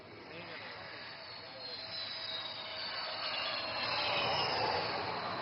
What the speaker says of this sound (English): Weighing over 38 tons, this twin-engine fighter demands nothing but absolute precision while landing on this highway.